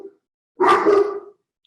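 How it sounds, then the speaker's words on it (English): Dogs bark in a single short burst of overlapping barks lasting under a second, fairly close and loud, with silence before and after. "noticing the sounds of the dogs barking"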